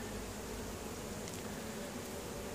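Honeybees buzz around an open frame lifted from a hive during a split, a steady, dense, quiet hum that carries on without a break. No one speaks over it.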